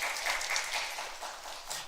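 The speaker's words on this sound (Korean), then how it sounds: "큰 박수 부탁드리겠습니다." An audience at a Korean Physical Society quantum physics session gives a steady round of applause, a dense wash of many hands clapping together with no talking over it.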